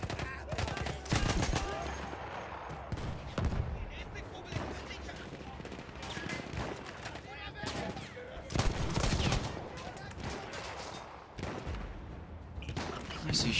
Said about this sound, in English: Is he shooting me?